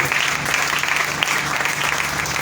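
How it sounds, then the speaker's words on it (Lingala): A church congregation bursts into steady, dense applause, many hands clapping together at close range and filling the room evenly from start to finish. "Acclamons pour la parole de Dieu."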